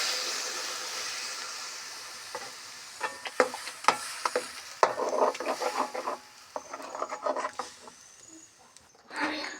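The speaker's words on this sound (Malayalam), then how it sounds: "പാല് ചേർത്ത് നല്ലപോലെ ഇളക്കിയിട്ട്" Milk being stirred into a pan of yam payasam, soft bubbling hiss with irregular clusters of scraping and sloshing from a spoon, close by, fading out before a final brief stir.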